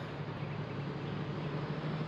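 A tractor engine in Farming Simulator 2013 drones steadily and loudly under heavy strain, a continuous low rumble with a constant hum and no talking.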